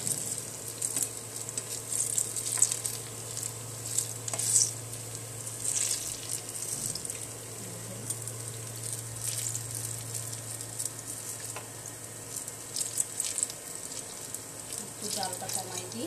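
Banana fritters (kola pitha) fry in oil with a soft, continuous sizzle over a low steady hum, faint and close, while someone speaks intermittently.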